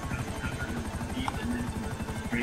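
A helicopter in Grand Theft Auto V chops with a fast, steady rotor pulse during a prison break heist, a constant drone heard under a player's talk.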